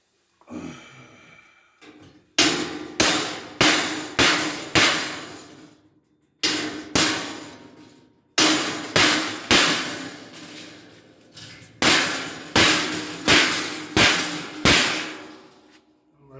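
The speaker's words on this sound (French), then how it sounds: "on va y aller marteau burin" A hammer drives a chisel into a gas boiler being dismantled, sharp metallic blows landing in quick bursts of three to five, separated by short pauses, loud and close with ringing decay.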